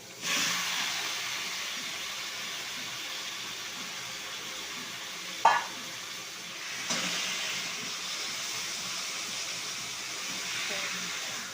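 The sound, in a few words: meat frying in oil for curry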